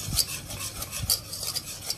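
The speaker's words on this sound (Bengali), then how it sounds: "এগুলোকে এবার আস্তে আস্তে ভালোভাবে মিশিয়ে নিব, ডিমের লাল অংশটা" Egg yolks stirred by hand for a Catalan cream custard, a utensil scraping and clinking against the bowl in a steady, close rhythm with sharp metallic ticks; no voices.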